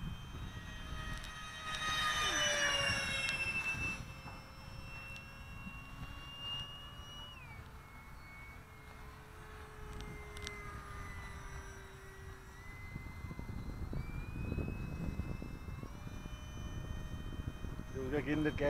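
A model EDF jet (Interceptor) flies overhead at an airfield, its ducted-fan whine sliding up and down in pitch as it passes, with throttle bursts on turns, while people talk nearby throughout.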